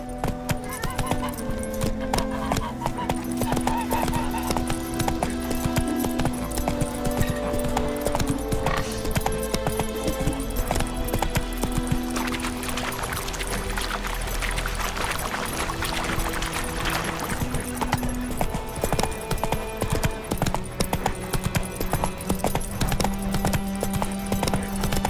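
Horse hooves clip-clop in a steady galloping rhythm while riding in The Witcher 3: Wild Hunt – Blood and Wine, close and continuous over game music and ambience, with a brief whinny and occasional voices.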